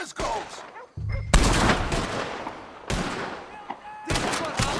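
Loud, rapid video game gunfire from Red Dead Redemption 2 rings out in dense, overlapping bursts with brief gaps, close and forceful throughout, with shouting voices mixed in.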